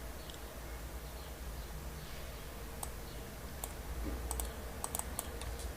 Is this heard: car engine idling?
no